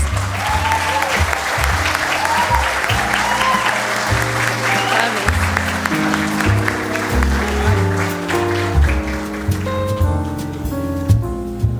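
Audience applause at the official opening of a citrus industry week and expo in Brazil as an agronomist receives an award trophy, steady clapping mixed with background music and voices throughout.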